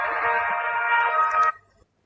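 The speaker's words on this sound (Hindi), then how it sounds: "शहरोज का फोन।" A phone rings in a drama scene, a bright electronic ringtone playing steadily for about a second and a half before cutting off abruptly, clear and close with nothing else over it.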